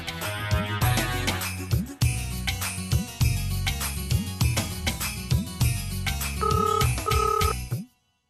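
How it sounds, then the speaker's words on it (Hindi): An office intercom telephone rings repeatedly in a Hindi TV serial scene, the rings sounding in a regular pattern over dramatic background music before everything cuts to silence. "पूरा ऑफिस खाली है फिर भी इंटरकॉम से फोन कर रहा है"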